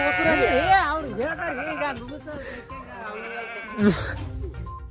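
Sheep bleating with wavering, drawn-out cries from a flock near shepherds in Kokatanur village, Sindagi taluk, Vijayapura, heard close and loud alongside people talking.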